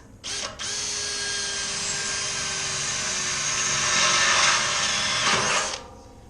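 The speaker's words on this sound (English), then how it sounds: "drill a little pilot hole." Power drill boring a pilot hole in a 200 litre (44 gallon) steel drum: a brief start, then a sustained high whining grind that rises slightly before stopping, close and loud with no talk.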